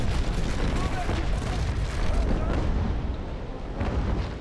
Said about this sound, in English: See if we can broadside the hell out of this guy here.